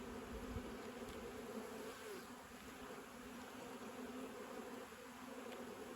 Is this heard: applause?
no